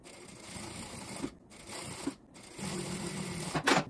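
A sewing machine topstitches fabric on a small bag with a bias binding, running in soft, fairly quiet bursts broken by brief stops, close by and without speech.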